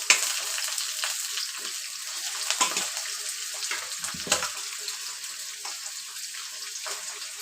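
Chicken and potatoes sizzle together in hot oil for a homemade biryani, with a continuous frying hiss and a few scraping stirs and clinks, close and moderately loud.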